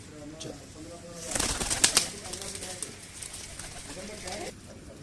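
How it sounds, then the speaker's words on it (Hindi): Pigeons belonging to a breeder coo softly in the background while a burst of wing flapping rises briefly in the middle; someone talks over them. "ये उस्ताद खान मोहम्मद बारा साहब के कमगर कबूतर।"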